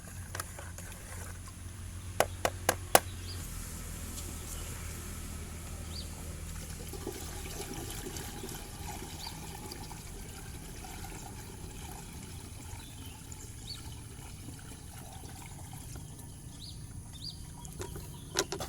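Kurakron liquid fertilizer poured into a water tank for chili crops, a steady trickling pour running throughout with a few sharp knocks near the start and birds faint in the background.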